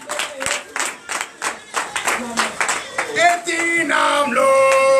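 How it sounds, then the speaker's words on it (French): Rhythmic clapping from a church congregation at a Sunday worship service in Benin, building as voices and music join in, ending in lively cheering and singing. "Donnez l'acclamation à Jésus."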